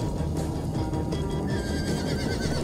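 A horse in Minecraft Story Mode gives a loud, close neigh over a busy game soundtrack and effects, with no talking.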